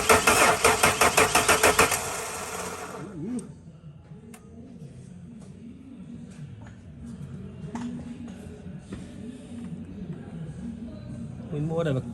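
An engine left unused for ten years cranks in a fast, rhythmic burst for about two seconds, then catches and settles into a steady, uneven idle with faint clatter and small revs near the end.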